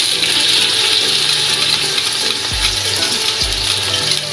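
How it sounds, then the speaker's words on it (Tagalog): Chopped onion hitting hot cooking oil in a frying pan for a creamy spaghetti sauce, a loud continuous close sizzle with a couple of soft stirring knocks, no voices. "Let's put the onion."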